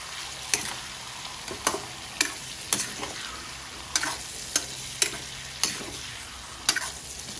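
Food frying in a pan, stirred with a steady sizzle broken by sharp periodic clinks and scrapes of a utensil against the pan, about a dozen strokes in a loose rhythm, close up and with no talk.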